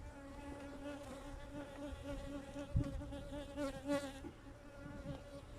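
Honeybees buzzing steadily around an outdoor beehive during a beekeeping session, a dense continuous hum of many insects close by with no talk.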